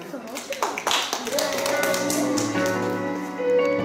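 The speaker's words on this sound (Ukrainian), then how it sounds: "Зустрічайте оплесками!" An audience at a children's theatre group's Flag Day performance in Ukraine gives scattered, close claps to welcome a young reciter, while a sustained tone and some talking run beneath the clapping.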